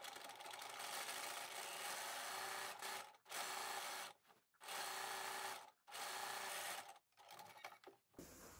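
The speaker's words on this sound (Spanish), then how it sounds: "ahora voy a coser las mangas que me entran en el brazo libre" A sewing machine stitches the sleeves of a summer dress on its free arm, running in several close, steady bursts broken by short stops.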